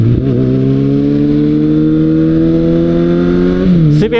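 Kawasaki Ninja ZX-6R motorcycle engine accelerating, a loud, steady, close-up whine that climbs smoothly in pitch through one gear and then dips briefly at the shift.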